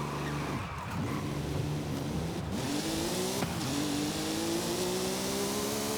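A supercar with a drag tune in Forza Horizon 5 accelerates hard, its engine note climbing steadily in pitch through the gears. The sound is loud, close and continuous, with no talking.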